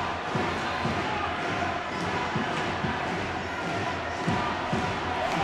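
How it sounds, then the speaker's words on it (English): Ice hockey crowd at an arena, a broad swell of oohs and aahs in the stands, with thumps from the rink and an announcer talking over it. "you can hear the oohs and ahs of the crowd"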